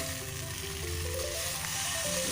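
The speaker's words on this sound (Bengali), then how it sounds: "আলু আর বেগুন ভাজা করে নিলাম" Potatoes and eggplant frying in oil in a home kitchen, a steady close sizzle with no voice over it.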